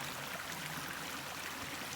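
A small stream runs through the woods as a water source on the Pacific Crest Trail, giving a steady, even rush of flowing water throughout, fairly quiet and with no voices over it.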